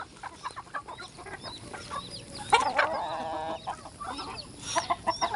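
Chickens cluck and chatter nearby in short repeated bursts, with one louder squawking call midway, over a faint outdoor background.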